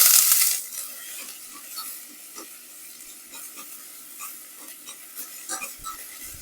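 Onions sauté in a very hot pan for an Indian butter chicken, heard as a soft, fairly quiet sizzle with light scraping and clicking from stirring.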